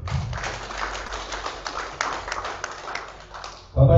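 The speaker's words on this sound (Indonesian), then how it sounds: "Sekali lagi kita kasih tepuk tangan untuk beliau." An audience at a university's academic-year opening ceremony gives brief applause, a dense patter of clapping that fills the short moment before fading out at the end.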